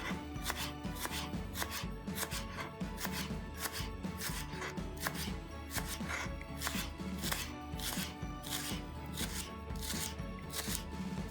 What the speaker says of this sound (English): you can either cut it in a round or you can cut it on an angle